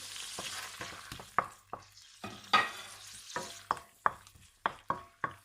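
Onion is sautéed in a pan: a soft, steady sizzle is broken by about a dozen sharp, rhythmic spatula scrapes and knocks against the metal, close and clear, with no talking.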